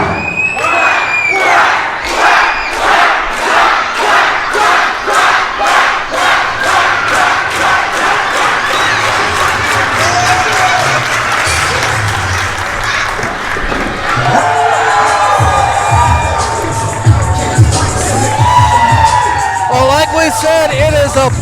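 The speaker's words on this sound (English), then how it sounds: "they're quacking loud here at Viral Pro Wrestling" A packed pro wrestling crowd screams and chants in unison, a rhythmic wave of repeated shouts that later breaks into loud, scattered cheering and whooping across the arena.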